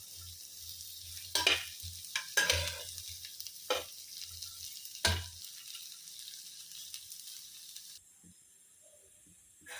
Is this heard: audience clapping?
no